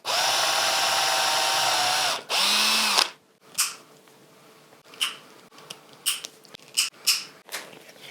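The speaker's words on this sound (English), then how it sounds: "now I have to drill those out to be the same sort of pilot hose as this one" A power drill bores out plug holes into pilot holes in a hybrid 3D-printed and wood guitar body, with two loud sustained whines of about two and three seconds. After them come softer scattered knocks and handling clicks.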